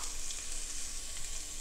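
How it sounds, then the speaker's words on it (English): About a cup of diced onion starting to sizzle in a hot pan for a vegan picadillo, a steady bright hiss of frying that holds evenly and close-up, with no talking. "Gonna start by heating up some onion. Ooh, we got some sizzle going."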